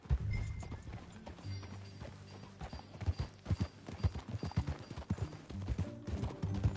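A horse's hooves clip-clop at a steady riding pace in the Western video game Red Dead Redemption 2, with rhythmic thuds over faint ambient game sound.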